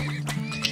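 A horse in the video game Turmoil gives a short, close whinny lasting under a second, bright and wavering, with a soft clop underneath.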